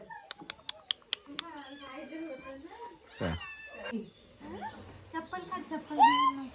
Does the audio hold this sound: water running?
no